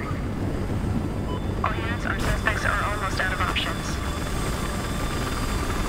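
A helicopter in the video game Battlefield Hardline flies in over a city, its engine a continuous roar and rumble, with game sound effects and someone talking over it.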